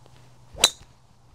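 A single sharp, ringing strike as a golf driver hits a ball on an into-the-wind tee shot, loud and close, standing alone against a quiet outdoor background.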